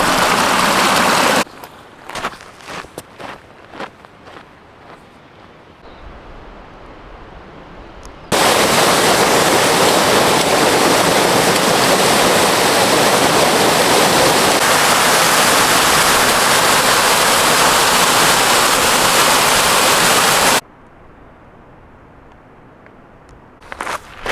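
Steady, loud broadband rush of a flowing stream fills most of the stretch, with quieter outdoor rustling and clatter at the start and end, in the High Sierras on the Pacific Crest Trail.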